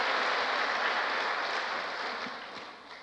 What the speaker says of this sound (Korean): 박수를 한번